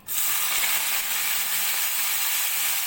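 Gongura leaves dropped into hot oil set off a sudden steady sizzle, a bright continuous hiss that starts abruptly and holds loud and even for a few seconds, with no voices over it.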